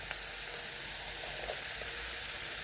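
Leafy greens frying in a pan over a low gas flame, giving a steady, even hiss of sizzling oil close by with a few faint crackles and no talking.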